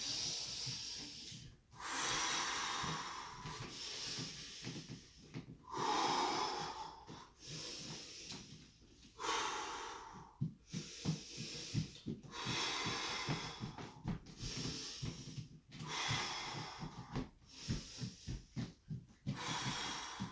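Heavy, rhythmic breathing from someone exercising during a zero-tension fitness routine, with loud repeated inhales and exhales and brief pauses between breaths, close and alone with no talk.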